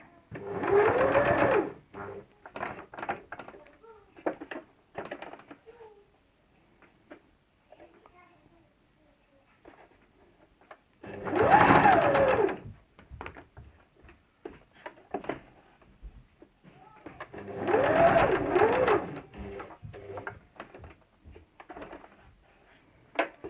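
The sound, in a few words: sewing machine stitching a 1 mm seam on patchwork quilt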